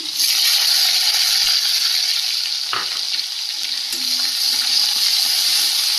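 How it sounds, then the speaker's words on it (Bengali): Chopped onion and garlic sizzle loudly in hot oil in a pan, a steady, dense frying hiss with occasional stirring scrapes, close by and without talk. "দিয়ে দেবো পেঁয়াজ আর রসুন কুচি"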